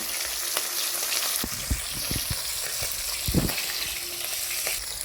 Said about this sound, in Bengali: ইলিশ মাছের মাথাটাকে খুব ভালো করে ভেজে নিতে হবে।